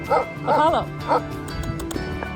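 A dog barks in a few short, close bursts at a backyard chicken coop, then quieter background sounds follow.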